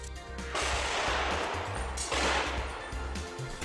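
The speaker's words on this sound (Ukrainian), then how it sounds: "стріляють САУ." Two heavy booming blasts of self-propelled artillery fire roll out a second or so apart, each followed by a long rumbling echo in open air.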